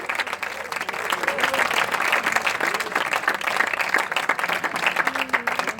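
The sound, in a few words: congregation applause in church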